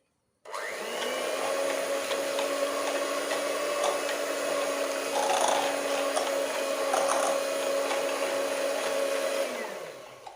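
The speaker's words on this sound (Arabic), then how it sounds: "من بعد ما حلينا البيض شويه غنبدا نوضع السنيده تدريجيا، وكنبدا نضرب الخليط حتى كيتضاعف الحجم ديالو" An electric mixer whirs steadily as it beats eggs, with sugar added gradually for a layered cake. The motor hum is loud, even and continuous, with faint rattling and no voices.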